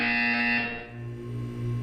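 A loud electronic buzzer from the Portal 2 video game sounds alone as a harsh, steady buzzing tone that fades and then swells again.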